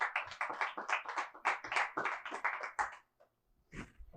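Congregation at a church service claps loudly and rhythmically in a dense burst of hand claps for about three seconds, then a pause and a few final claps.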